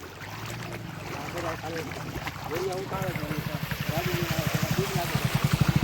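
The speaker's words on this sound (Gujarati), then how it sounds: "પાણીમાં ગાડી નાખી છે" A car pushed through water on the way to Ratneshvar Mahadev temple near Dayal, churning and sloshing with a growing rhythmic pulsing that gets louder toward the end, while voices talk over it.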